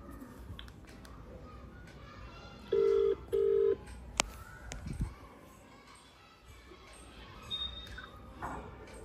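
A mobile phone call is placed, then a ringback tone sounds as two short, steady beeps in quick succession, followed by faint clicks and room noise.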